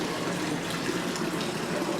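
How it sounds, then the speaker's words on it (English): Water runs steadily from a double fountain at Rila Monastery in Bulgaria, a soft, continuous splashing gush at moderate distance with no voices. "here another double fountain."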